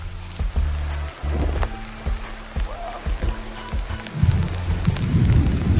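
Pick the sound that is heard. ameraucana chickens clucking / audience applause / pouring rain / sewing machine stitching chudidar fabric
pouring rain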